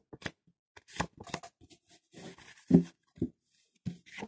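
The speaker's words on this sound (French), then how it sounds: "Alors, je continue à brasser." Tarot cards being shuffled by hand, a quiet, close series of crisp riffling bursts and soft slaps with short pauses between them.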